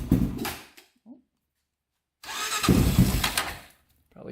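A small engine with choke and thumb throttle is cranked, briefly fires, stops, then catches again in two short loud bursts separated by silence.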